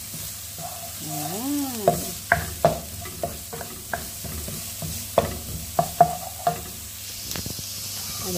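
Onion frying in a pan while being stirred, with a soft sizzle under repeated sharp clacks of a utensil against the pan, plus a brief spoken word.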